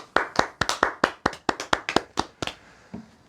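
Clapping greets a seven-year-old girl in a princess costume as she is introduced at a gathering. About a dozen sharp, close hand claps come in a quick, uneven rhythm, then trail off into quiet.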